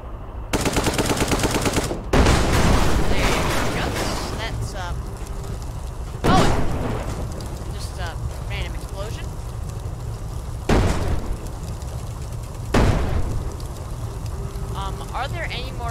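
Bombs detonating in Brick Rigs, a rapid crackling burst followed by several booming blasts spaced a few seconds apart, loud and close, with a voice talking over the rumble.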